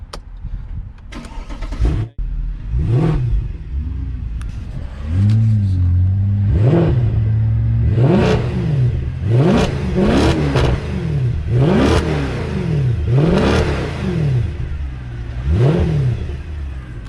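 A Mercedes C63 AMG with a 6.2-litre V8 fires up, then is blipped through a string of sharp, evenly spaced revs that rise and fall over a rumbling idle, loud and close.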